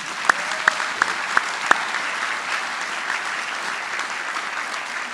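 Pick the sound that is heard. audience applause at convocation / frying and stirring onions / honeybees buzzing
audience applause at convocation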